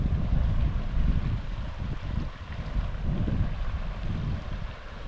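Wind buffets a lakeside point in the Boundary Waters in August, a steady, close roaring rush with gusty swells and no voices.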